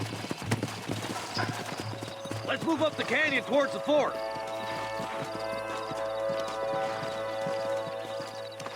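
Horse hooves clip-clop in the Western video game Red Dead Redemption, a rhythmic steady trot at the start with a brief whinny, under a voice and background music.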